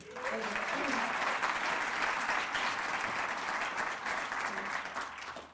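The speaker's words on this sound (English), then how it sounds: "I think you deserve a round of applause" Steady audience applause at a school district literacy celebration, a continuous wash of many hands clapping for several seconds, fairly distant, with faint voices underneath.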